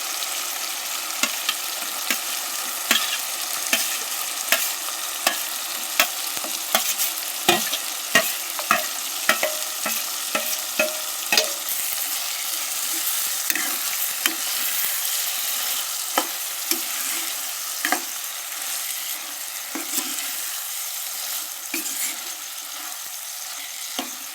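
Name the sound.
boiled eggs added and stirred in a sizzling pan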